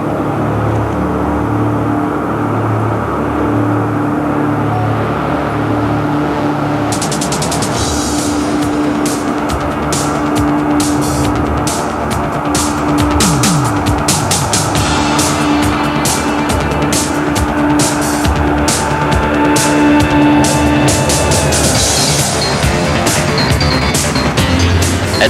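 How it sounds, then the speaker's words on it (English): A Northrop B-2 bomber's engines run up to a loud, steady roar that swells and stays heavy as the brakes release and the takeoff roll begins, with no voices. "Pilot Bruce Hines ran up the engines, released the brakes, and started his takeoff roll"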